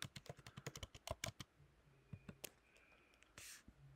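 Page names typed on a computer keyboard while building a website, with a fast burst of sharp, close keystrokes that thins into a few scattered taps and ends in a short breathy rush.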